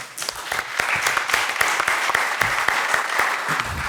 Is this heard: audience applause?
yes